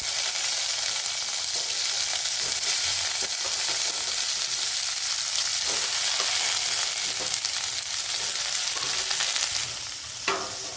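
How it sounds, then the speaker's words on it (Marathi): Ridge gourd sautéing in a little oil in a pan, a steady loud sizzle of frying running throughout with soft stirring scrapes, close by and without talk. "आपल्याला आधी दोडके त्याला परतून घ्यायचं"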